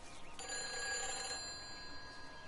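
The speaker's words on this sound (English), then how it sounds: "I can't even answer the phone" A telephone bell rings inside the first-person game Everybody's Gone to the Rapture, a bright, steady electronic trill that starts abruptly and holds for about two seconds at moderate volume, with no talking.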